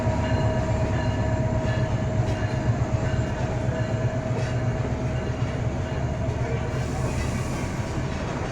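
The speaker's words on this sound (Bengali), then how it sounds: "লালমনি এক্সপ্রেস প্রবেশ করলো।" The Lalmoni Express, a passenger train hauled by locomotive 3024, arrives at a Bangladeshi station with a steady, loud rumble of rolling wagons and faint rail clatter running throughout.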